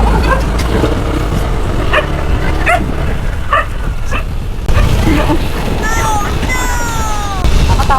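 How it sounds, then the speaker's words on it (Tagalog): Dog barking repeatedly along a rural provincial road, several sharp yips and barks in quick bursts with whimpering squeals later, close and loud over passing traffic noise and some voices. "akala ko ay hinahabol ako ng aso"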